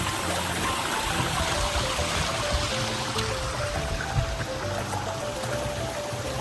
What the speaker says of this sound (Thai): เสียงน้ำตกชัดมากเลยทุกคน